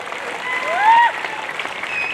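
Crowd applause breaks out at an outdoor kushti wrestling bout in Maharashtra, steady clapping under a loud announcer's voice and crowd noise.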